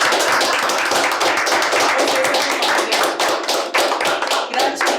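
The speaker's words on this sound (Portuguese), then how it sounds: "Uma salva de palmas" A standing ovation on a café podcast set, loud close-up clapping from a small group, rapid and dense hand claps filling the whole stretch with a few uneven dips.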